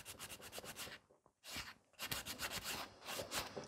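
Nail filing with a coarse 100 grit file, reshaping and blending applied product into natural nails, heard as quick, close scratchy strokes in bursts with a brief pause in the middle.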